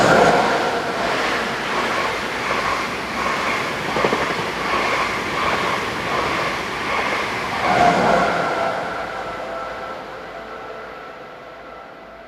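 A late-running passenger train from Berlin rolls past close by, with a loud continuous rumble and rhythmic clacking of wheels over rail joints that stays strong for several seconds, then fades away as it recedes.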